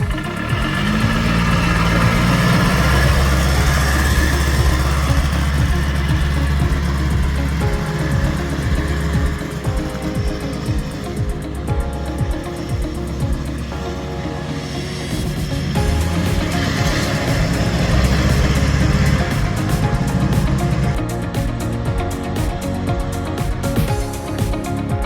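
A motorcycle engine runs steadily throughout a test ride, a loud, rumbling drone that swells and eases as the throttle changes, with no talk.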